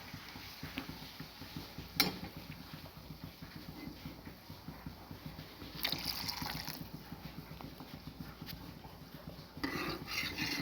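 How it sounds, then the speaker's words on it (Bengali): Someone stirs a pot of teng fish curry after water has been added, making repeated light scraping and clinking of a utensil against the pot in a steady rhythm, fairly quiet and without talk. "ভালো করে নেড়ে নেব।"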